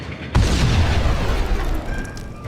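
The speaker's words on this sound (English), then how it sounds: "I'm definitely gonna toss a grenade." A grenade goes off in the 2001 PC shooter Max Payne, one sudden loud boom followed by a long rumbling, crackling decay that fades over about two seconds.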